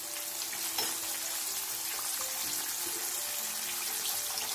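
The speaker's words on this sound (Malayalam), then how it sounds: "മീഡിയം ഫ്ലെയിമിൽ ഒരു 8 to 10 minutes കിടക്കുമ്പോഴത്തേക്കും നല്ലതുപോലെ ഫ്രൈ ആയി വരുന്നതായിരിക്കും." Chicken fries steadily in hot oil over a medium flame, giving a continuous even sizzle with faint crackles throughout, close up and without talk.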